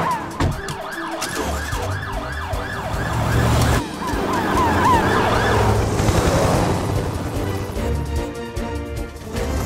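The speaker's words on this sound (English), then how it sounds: "Helen, you follow behind in the mountain rescue ambulance" A mountain rescue ambulance in the Fireman Sam cartoon, its siren wailing loudly and continuously with repeating rising and falling tones over engine noise, growing closer and fuller midway.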